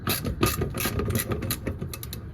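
Ratchet wrench clicking in quick repeated bursts while loosening subframe bolts during removal of a 4A-C engine from a Toyota AE86, close and fairly loud with no talk.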